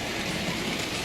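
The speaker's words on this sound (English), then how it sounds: "We'll stop the train there" Hornby Dublo 3-rail model 2-6-4 tank locomotive running steadily along model railway track, a continuous near rumbling whir with faint rail clatter, no talking.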